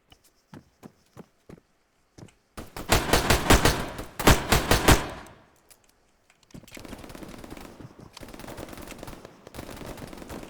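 In Arma 3, a few sharp isolated shots ring out, then two loud sustained bursts of machine gun fire echo close by and fade. Distant rattling fire follows at a lower level.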